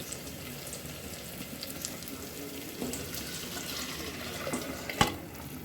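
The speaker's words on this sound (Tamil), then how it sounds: "தண்ணி ஊற்றி கலக்கி இதில் எடுத்து ஊற்றிக்கலாம் தண்ணி ஊற்றிட்டேன்" Water poured into a pot of kuzhambu curry with chickpea lentil and toor dal dumplings, a soft continuous splashing stream with a sharp clink near the end, no speech.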